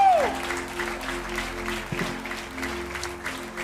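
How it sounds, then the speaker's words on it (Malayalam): A church audience claps loudly during a pastor's sermon, a steady dense wash of applause sustained throughout with a few sharper bursts. "നല്ലപോലെ കൈയടിച്ച്"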